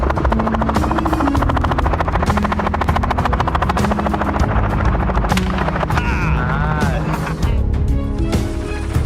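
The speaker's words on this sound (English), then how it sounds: "The helicopter kept circling, moving toward the central area." Loud, steady rotor thumping of a helicopter circling overhead during a night wild boar hunt, continuous throughout with engine whine and scattered sharp gunshot bangs.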